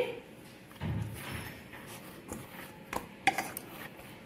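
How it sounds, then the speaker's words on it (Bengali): A lid comes off a covered bowl of kneaded wheat-flour dough for spiced potato luchi, with a soft clatter near the start and a sharp metallic click later over quiet kitchen background. "আমি ঢাকনাটা খুলে নিচ্ছি।"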